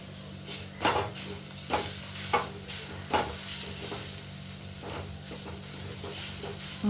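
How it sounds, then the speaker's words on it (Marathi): Masala sautéing in a pan for khar vange, the Maharashtrian brinjal dish, with a steady sizzle and hiss broken by regular louder scrapes and stirs of the spoon, close and continuous with no talk. "कच्चापणा जाईपर्यंत आपण चांगलं त्याला परतून घ्यायचा"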